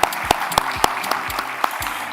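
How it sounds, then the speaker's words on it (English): Scattered, sparse handclaps from a small audience at a youth leadership conference panel, a few separate claps spread over a couple of seconds, fairly faint and thin rather than a full ovation. "please give a round of applause for the moderators and the panelists"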